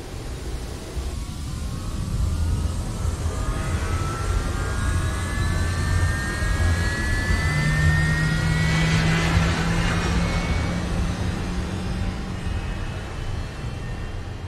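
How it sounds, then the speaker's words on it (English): A jet airliner takes off from a runway in a movie scene, its engines roaring loud and steady with a rising turbine whine and a deep low rumble throughout. "Flight 3760, clear for takeoff on runway 33"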